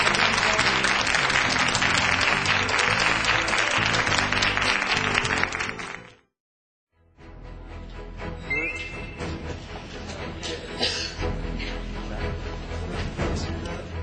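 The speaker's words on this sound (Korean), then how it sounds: "다시 한번 수고해주신 권희석 대표님께 뜨거운 박수를 부탁드리겠습니다" Loud audience applause fills a lecture hall at a corporate CEO talk, a dense sustained wash of clapping that drops to a brief silence partway through, then resumes as a softer, lighter clatter.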